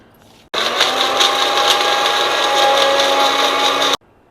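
An electric grinder whirs through dried mango pieces to make amchur powder, starting abruptly and holding a loud, steady mechanical whine for about three and a half seconds before cutting off sharply, with no voices.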